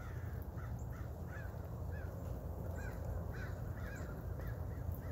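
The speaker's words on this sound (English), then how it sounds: "There's a bird right there on the driveway." A crow perched on a driveway caws in a run of short, hoarse calls spaced about half a second apart, moderately close, over a steady hum of outdoor background noise.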